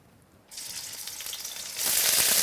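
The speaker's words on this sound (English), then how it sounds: "You hear that sizzling sound?" Loud sizzling as kidney hits hot oil, the crackle surging louder near the end, close and with no talking.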